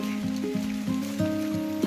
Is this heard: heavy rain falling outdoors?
yes